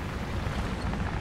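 A bombing explosion in the tank battle game War Thunder: a deep, rumbling boom that fills the whole short moment, heavy and dull rather than sharp.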